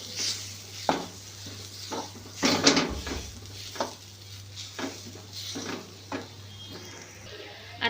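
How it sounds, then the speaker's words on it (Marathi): Mashed sweet potato sautéed in ghee for a sweet potato kheer, with a spoon scraping and knocking against the pan in irregular bursts over a soft background sizzle. "आता आपण हे छानपैकी थोडंसं तुपावरती परतून घेऊया."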